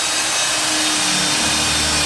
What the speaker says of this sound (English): Now, I've got this one hole started and drilled through.